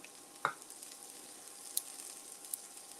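Vegetables for spaghetti peperonata sauté quietly in a pan, a soft low sizzle broken by a few sharp little pops and spatters, faint and without talk.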